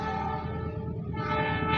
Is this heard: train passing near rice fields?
yes